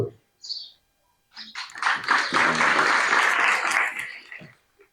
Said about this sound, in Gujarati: જોરદાર તાળીઓથી એમનું સ્વાગત કરીએ